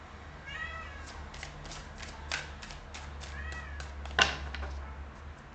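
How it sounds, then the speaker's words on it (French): A cat meows repeatedly in short, drawn-out calls over a low steady hum, with a soft thump near the end. "sur toutes mes vidéos, généralement, on entend le chat."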